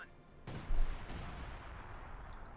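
Priest self-propelled artillery shelling an enemy base in the Company of Heroes 2 strategy game, a sharp heavy blast followed by a rumbling low boom and a second crack, with a dense battle din continuing underneath.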